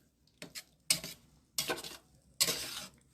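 Queso dip with red tomatoes being stirred in a pan, a utensil scraping and clinking in three separate bursts of stirring with short quiet gaps between them.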